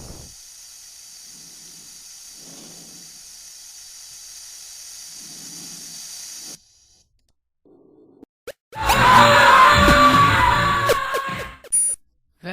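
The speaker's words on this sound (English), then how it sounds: "That breathing noise gets really aggravating." Faint spacesuit breathing from 2001: A Space Odyssey, several soft breaths over a steady hum, then a pause and a loud burst of hissing, rushing noise that cuts off abruptly.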